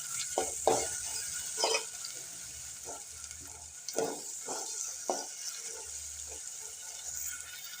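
Chopped tomato is stirred in a frying pan while cooking a North Karnataka–style cluster bean palya, with a soft sizzle underneath and a series of irregular scraping, clattering strokes from the spoon, close by and with no talking.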